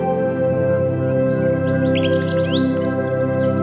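A kingfisher calls in a run of sharp, high, repeated chirps over a steady droning background, close and fairly loud throughout.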